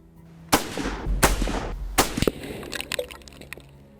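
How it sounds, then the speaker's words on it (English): A Lee Enfield SMLE rifle fires three sharp, loud reports about three-quarters of a second apart, each followed by a short rumble. Lighter metallic clicks and clatter come after. "I'm certainly finding it easier to hit targets with the SMLE"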